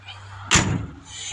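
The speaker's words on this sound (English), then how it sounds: "Every Ford truck's door from back when trucks were trucks." The metal door of an older Ford truck shuts with one solid, loud slam close by, followed by a brief fading rumble.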